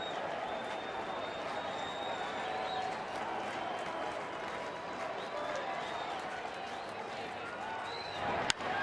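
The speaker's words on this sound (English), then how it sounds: "Largest opening day crowd in Comerica Park history" A record opening-day baseball crowd at Comerica Park, Tigers home opener, keeps up a continuous hum of cheering and chatter in the bottom of the ninth inning. An announcer's voice sits faintly under the crowd, and a sharp crack stands out near the end.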